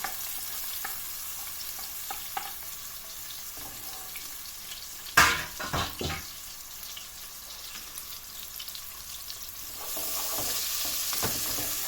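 Chopped onions sizzle steadily in a hot pan, with a sharp clatter of stirring midway and a louder hiss near the end.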